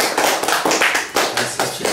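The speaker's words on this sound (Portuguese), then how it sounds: "Vamos dar uma salva de palmas para o seu Tião?" An audience applauds a man receiving a diploma, with close, loud, irregular clapping in a short burst.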